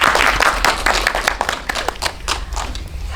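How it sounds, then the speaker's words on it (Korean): Audience members clap at a cinema talk after a screening of the Korean film Dustman, with distinct individual claps close by, scattered and fairly loud, thinning slightly toward the end. "큰 박수 한 번만 더 부탁드릴게요."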